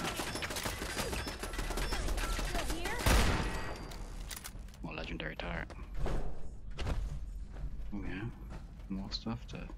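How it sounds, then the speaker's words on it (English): A legendary turret firing in Fallout 4 VR, opening with a dense, loud volley that fades, followed by scattered mechanical clunks and shots while someone talks over it. "This is a legendary turret."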